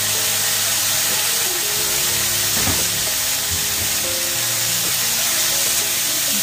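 Mushrooms, peas and celery stirred in a frying pan over medium heat, a steady close sizzle with occasional scraping clinks of the utensil, no talking.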